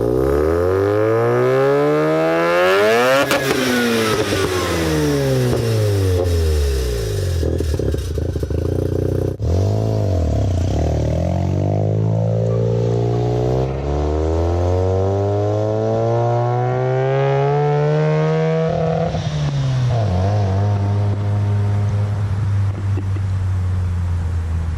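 A Mazda FC3S RX-7 rotary engine converted to Turbo II revs hard again and again, its pitch sweeping up and down in strong roaring surges with no talking.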